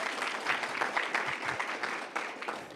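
Steady applause from a crowd fills the space, a dense wash of many hands clapping at moderate volume.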